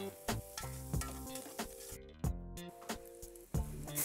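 Shallots and onions sizzle in butter for a mushroom risotto, with a steady close frying hiss broken by several sharp utensil clicks and scrapes against the pan.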